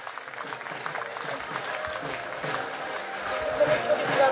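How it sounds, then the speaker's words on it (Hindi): Audience applause for the working committee members at a college event, a dense steady patter of many hands that swells slightly toward the end, with voices mixed in underneath. "एक बार उनके लिए जोरदार तालियां हो जाए।"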